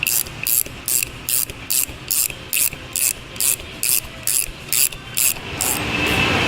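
A ratchet wrench tightening bolts on an Atlas two-speed transfer case going into a Jeep Wrangler, giving a steady rhythm of about fourteen close, crisp clicking bursts, then a smoother continuous rasp at the end.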